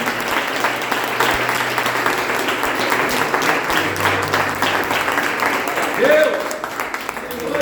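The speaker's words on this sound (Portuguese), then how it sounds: "Receba o servo do Senhor com uma salva de palmas a Jesus" Applause rises from a church congregation at a Portuguese-language evangelical service, a dense, steady wash of hands clapping that fills the hall for several seconds, with a voice briefly speaking over it near the end.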